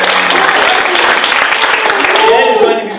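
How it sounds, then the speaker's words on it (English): Loud audience applause at an improv comedy show, dense clapping that holds steady and then tapers off at the end, with a voice briefly audible beneath it. "Let's have a round of applause for Jed"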